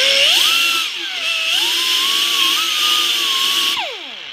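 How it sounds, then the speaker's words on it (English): A high-pitched 90-degree sander whines steadily, its pitch dipping and rising as it grinds a broken exhaust manifold stud on a 2004-2009 Ford F150, then spinning down at the end. "I'm going to do that with a 90-degree sander"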